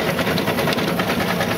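A 1911 Stanley Steamer's engine and pumps run steadily while the car drives down the road, giving a continuous close mechanical churn with a fast, even pulsing rhythm.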